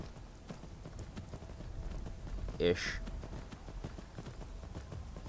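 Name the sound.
horse hooves clip-clop in Skyrim video game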